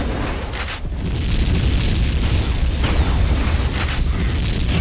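An enemy turret blown up in Tribes 2 during a capture-the-flag match on the Quagmire map: a loud, rumbling explosion swells after the first second and holds as a dense, booming roar with scattered crackling pops.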